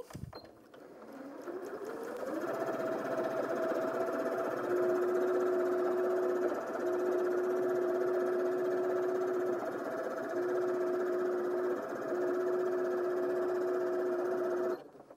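A Janome M200QDC sewing machine stitches fabric at a steady speed, its motor whirring continuously with a rhythmic needle hum, close and alone.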